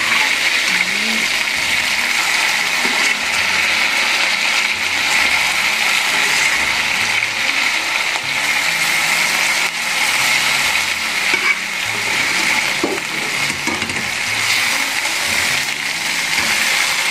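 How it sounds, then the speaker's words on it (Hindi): Fried mutton chops tossed into light-browned onions sizzle steadily in a pan, a dense, continuous frying hiss with small clinks of stirring, close and fairly loud throughout. "चांपें मैंने प्याज़ों में ऐड कर दी हैं, जो हमने प्याज लाइट ब्राउन किए थे।"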